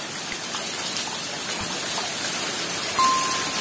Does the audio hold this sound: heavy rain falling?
yes